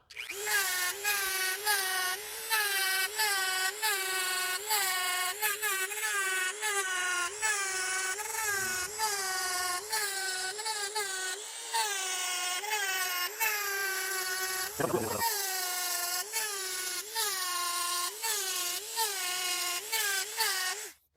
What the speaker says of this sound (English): All right, back to grinding.